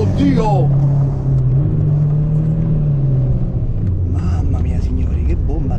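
Rally car engine, a Delta HF Integrale Evoluzione or Sierra Cosworth 4x4, pulling in second gear, a loud close drone holding a steady pitch then dipping, with a man exclaiming over it.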